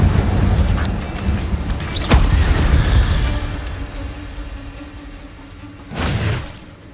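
Hogwarts Legacy's Incendio fire spell erupts in a loud whooshing burst, fading into a low rumble, followed by a second sharp flare near the end; no voices.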